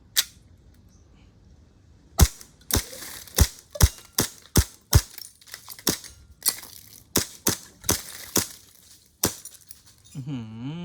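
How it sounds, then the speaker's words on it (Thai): An airsoft BB gun fired at close range in a string of about a dozen sharp, loud cracks at an uneven rhythm, followed by a brief electronic warbling tone at the end. "ก็เลยมายิงใกล้ๆเพื่อนๆดู"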